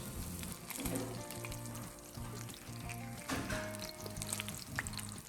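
Salmon frying in a pan gives a steady, soft sizzle and crackle throughout, with faint background tones and no talking.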